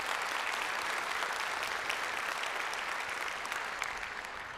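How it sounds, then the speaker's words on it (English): Audience applause at the 2017 State of the City address in Arlington, Texas: a dense, continuous wash of many hands clapping at an even, moderate level, tapering slightly at the end. "can we give them a round of applause for improving the quality of life right here in Arlington?"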